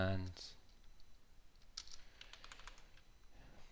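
A computer keyboard clatters softly with a short run of key presses while code is being entered, faint and close, after a brief spoken word at the start.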